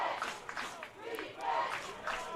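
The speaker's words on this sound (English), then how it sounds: "Pirate crowd with the defense chant trying to urge the Motown Marauders to get a stop." A college football crowd at a stadium chants for the defense, a distant surging roar of many voices rising and falling in rhythmic waves, fairly faint.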